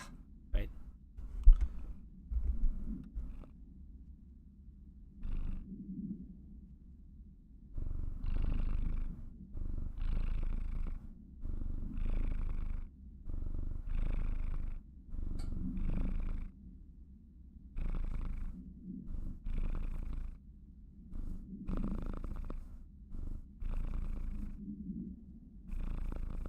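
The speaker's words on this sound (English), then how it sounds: "Enjoy some premium kitty purrs." A domestic cat purrs up close, a steady low rumble rising and falling in regular breath-paced pulses for the whole stretch.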